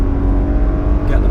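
Steady engine drone of a BMW 7 Series Hybrid accelerating out of a turn, a continuous close rumble that holds level throughout.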